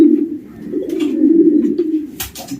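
A tired racing pigeon just back from a 500 km race coos close by in low, throaty, rolling tones, with a few faint rustles and clicks in the background.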